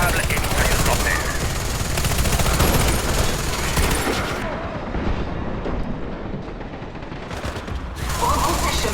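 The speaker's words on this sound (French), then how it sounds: "Une tourelle conçue pour imiter l'artilleur." A Mammoth turret machine gun fires in the Warface video game. Loud, dense bursts of rapid gunfire and heavy booms continue throughout, dulling briefly in the middle before returning at full intensity.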